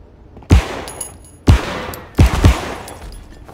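Gunfire in the Marauders closed beta, a game similar to Escape From Tarkov: three loud, close single shots spread over a few seconds, the last followed quickly by a fourth, each with a short echoing tail.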